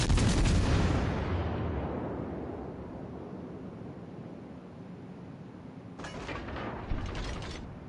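Naval gun salvos from a cruiser in the World of Warships video game: a loud, booming blast at the start fades into a long rumbling decay, followed by a second burst of sharp crackling reports near the end.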